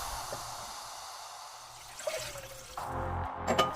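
Water poured into a pot for miso soup, heard as a faint trickle that turns into a louder, steadier splash and gurgle near the end.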